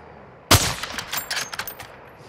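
Gunfire in Call of Duty: Modern Warfare II, opening with one sharp loud shot and followed by a ragged string of rapid shots and bursts that fade slightly toward the end.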